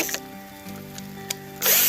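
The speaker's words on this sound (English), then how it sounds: "We got to drill." A power drill drives stakes through a wooden swing set frame outdoors, giving a short mechanical whir and ratcheting grind that builds to a louder burst at the end, heard close with no talking.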